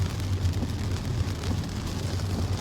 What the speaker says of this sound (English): Well, I said it was going to rain heavy.